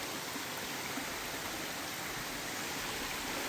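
A river stream flows at a hiking-trail crossing in the Great Smoky Mountains near Cosby, Tennessee, making a faint, steady, broadband rush of water with no other sounds.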